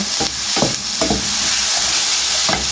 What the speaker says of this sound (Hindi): इसको आपने कम से कम 5 मिनट इसको फ्राई करेंगे हम